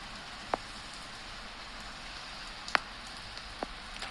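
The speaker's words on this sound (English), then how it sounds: "Oh my god, it's heaving with rain." Steady hiss of heavy rain falling in Fukushima, Japan, with a few louder drops striking nearby.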